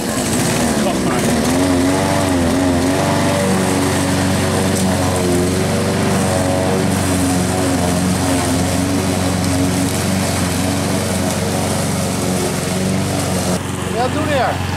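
An electric lawn mower with a motor runs steadily throughout, a loud continuous motor hum with a droning tone, close by while mowing grass at a home in France.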